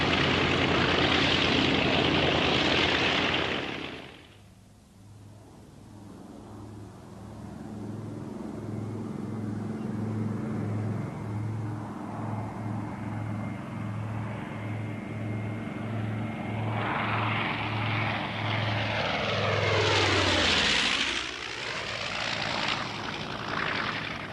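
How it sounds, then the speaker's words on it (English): A propeller-driven bomber with a Goblin parasite fighter slung beneath its bomb bay taxis toward takeoff, its engines droning steadily. A loud roaring surge is heard at the start and again near the end, with a lower, even hum between. "Hoisted into the bomb bay from a specially dug pit, the Goblin protruded below the carrier as they taxied to takeoff."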